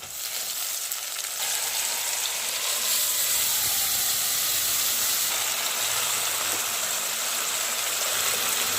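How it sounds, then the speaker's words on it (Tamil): Sliced onion and green chili tempering in hot oil for a Kerala-style pumpkin kurma, a loud, steady close-up frying hiss and crackle with no voices. "இப்போ இதையே தாளிச்சு விட்டுடலாம்"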